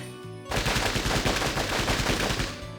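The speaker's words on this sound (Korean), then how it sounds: "총소리가... 그, 가까워" Close, loud automatic gunfire in the Closers video game, set in Nampo-dong, Busan, erupts after a quiet half second and keeps up a dense, rapid burst of shots to the end, with no talk over it.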